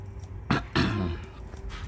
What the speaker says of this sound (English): let's clear my throat a little bit.